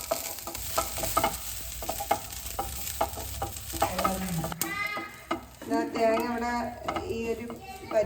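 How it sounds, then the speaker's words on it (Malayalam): Grated coconut roasting and being stirred in a pan for a raw cashew curry, with small onions and curry leaves; steady close sizzle and scraping stir strokes throughout, with a brief voice and some clattering toward the end. "ഇനി ഈ തേങ്ങ ആദ്യം ഒന്ന് വറുത്തെടുക്കാം."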